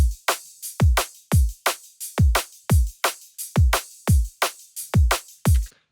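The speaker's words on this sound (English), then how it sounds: "very standard kick snare pattern with a kind of 4 hi-hat and then some top loops" A punchy drum-and-bass drum loop plays alone: deep kicks and sharp snares alternate at a steady tempo, with bright hi-hats and percussion top loops filling the top end.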